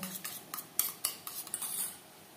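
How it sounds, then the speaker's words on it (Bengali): Eggs with chopped onion, green chilli and salt whisked in a bowl, a quick run of light metallic taps and clinks that fades away after about two seconds. "ডিম বেশ ভালো করে ফেটিয়ে নেব।"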